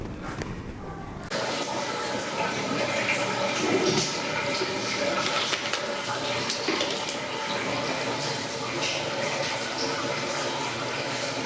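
Shower water runs steadily in a cubicle of an airport lounge at Singapore Changi Airport, a continuous broadband hiss that begins abruptly after a brief quiet moment and stays loud and even.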